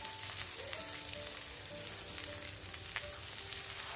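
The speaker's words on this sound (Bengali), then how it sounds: "আর এবার এটাকে দিয়ে একটু ফ্রাই করে নেবো" Ginger and green chili paste fries in a pan for cauliflower singara filling, giving a steady sizzling hiss with a few faint tones and light clinks over it.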